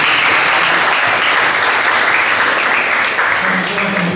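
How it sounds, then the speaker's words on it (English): An audience at a conference session claps steadily, a dense, loud wash of applause that carries on throughout. "give a big round of applause for our speakers for their time"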